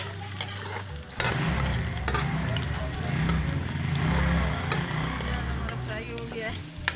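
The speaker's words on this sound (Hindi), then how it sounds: "ऑयल हमारा गरम हो गया, प्याज डाल दिया।" Sliced onions sizzle in hot oil in a karahi pan for a chicken karahi, a dense crackling hiss with scraping stirs and occasional clinks, steady and close up.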